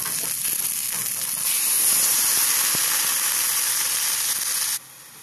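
String beans, tofu and pork frying in a pan while being stirred, a loud, steady hiss and sizzle close up, with faint scraping of the utensil, until the sizzle drops suddenly near the end.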